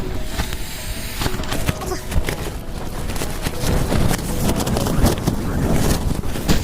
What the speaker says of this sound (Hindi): हवाएं इतनी तेज़ चल रही है